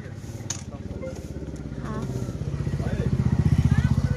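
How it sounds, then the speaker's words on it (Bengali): A Royal Enfield motorcycle rides on a road trip, its thumping engine pulsing rhythmically and growing louder as it nears, while voices talk over it. "এনারা রাইড করতে করতে এসেছে। কি সুন্দর রয়্যাল এনফিল্ডটা নিয়ে এসেছে।"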